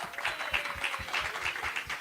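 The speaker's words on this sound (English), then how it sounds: "Manaf, please give him a round of applause." An audience claps for a live painting artist at a conversation event, giving steady, moderately loud applause from many hands that lasts the whole moment.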